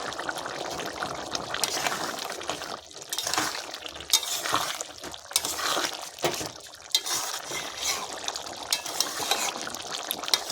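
Garam masala powder is stirred into a fig, potato and prawn curry in a pan, with repeated soft scraping and sloshing strokes and light clinks of the spoon, moderately loud and steady throughout.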